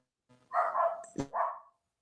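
Dogs bark several times close by indoors, short tonal yelps in quick succession, with a sharp clack partway through and no talking.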